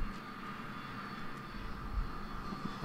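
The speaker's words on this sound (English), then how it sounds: "our plane is now going down" A plane going down in the survival video game The Forest, heard as a steady, droning aircraft engine roar that holds evenly throughout without talk.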